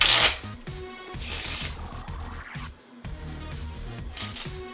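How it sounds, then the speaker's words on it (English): Playing cards being riffle shuffled: a crisp burst of fluttering card riffles, then softer bridging and squaring sounds, close and quiet with no talking. "The Riffle shuffle."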